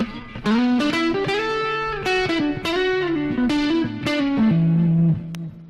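Electric guitar played through a Boss GT-1000 effects processor with the distortion switched off, heard as a sequence of sustained, ringing notes and chords with effects coloring, loud and alone.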